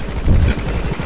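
Rapid gunfire from a video game rattles loudly and continuously through the moment, a dense burst of shots with no clear pauses.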